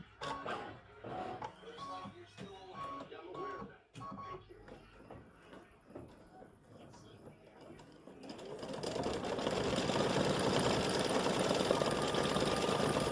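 An embroidery machine stitches a test design in a rapid, steady mechanical patter that grows louder and denser toward the end, heard up close without talk.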